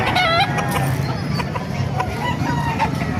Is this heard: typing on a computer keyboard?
no